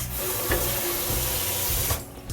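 Tap water running into a sink while baby spinach is rinsed, a steady close gushing stream with faint clunks of handling, briefly interrupted near the end.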